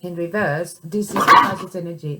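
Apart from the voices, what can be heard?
dog barking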